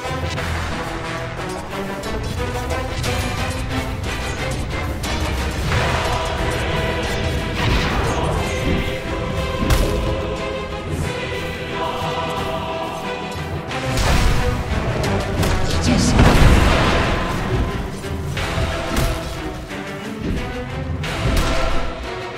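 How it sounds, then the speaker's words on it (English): Dota 2 match with a tower under attack: a dense, continuous wash of game combat effects, clashing hits, crashes and thuds layered over music, loud and steady throughout with a swell near the middle. "Radiant's middle tower is under attack"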